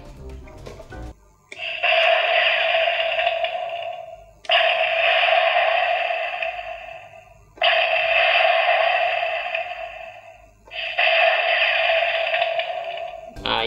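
DX Tajaspiner Kamen Rider OOO toy playing its electronic effect: four long, loud buzzing bursts of popping static, each about three seconds, separated by short silences, close and alone.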